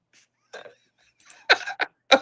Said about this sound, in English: blowing my nose